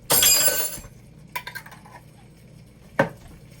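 Garlic stirred into a mixture in a pan for SOS on a shingle: a loud burst of clinking and scraping, followed a moment later by a few lighter clinks and one more sharp utensil knock against the pan.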